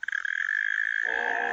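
A frog croaks in a loud, close, continuous buzzing trill that pauses briefly and then resumes with a rougher, lower rattle.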